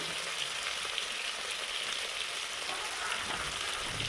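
Spices sizzling steadily in hot oil in a pan with ginger-garlic paste, salt, turmeric and chilli powder, a continuous dense crackling hiss close up, with no talking.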